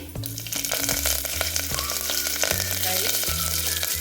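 Curry leaves and vegetables sizzle in hot oil while upma is being made, a steady loud frying hiss with occasional stirring clatter and low tonal hum underneath, no talking.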